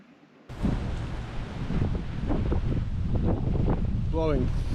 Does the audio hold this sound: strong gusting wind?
yes